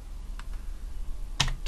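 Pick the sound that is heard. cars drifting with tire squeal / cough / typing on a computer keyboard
typing on a computer keyboard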